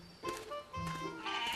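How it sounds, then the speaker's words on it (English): Goats in their pen bleating, a few short wavering calls close together, fairly faint. "The goats played in their pen."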